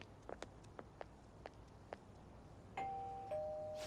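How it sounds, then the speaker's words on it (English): Doorbell at Madarame's house in Persona 5 Royal chimes in two quick tones after several soft footsteps, clear and close in a quiet scene. "You ring the bell."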